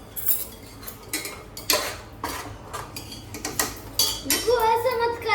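Spoons clinking and scraping against dishes and pans while freshly cooked Maggi noodles are served, a series of sharp close metallic taps and clatters in irregular bursts.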